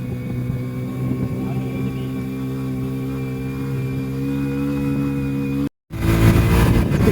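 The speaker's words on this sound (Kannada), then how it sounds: "ನಮ್ಮ ಬೈಕ್ ಇದ್ದೇ ಸೌಂಡ್." A motorcycle engine drones steadily while riding on a climb where the bike cannot pull in first gear, a continuous harmonic hum that cuts out briefly near the end before louder, rougher wind-blown engine noise returns.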